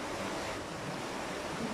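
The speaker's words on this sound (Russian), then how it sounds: "Везде такие перекаты." River water rushing over shallow rapids outdoors in Turkey, a steady, even wash of flowing water with some wind noise, moderately quiet and continuous, no voices.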